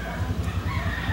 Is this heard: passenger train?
no